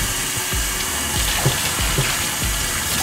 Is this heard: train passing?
no